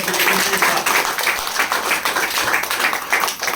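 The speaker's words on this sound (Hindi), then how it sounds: "जोरदार ताली" An audience gives loud, dense applause at a wellness company event, rapid clapping that swells and dips for a few seconds without speech over it.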